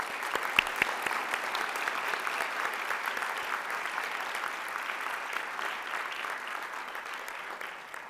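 Sustained applause from a large crowd at a university honors convocation, steady and dense clapping throughout, gradually tapering slightly near the end.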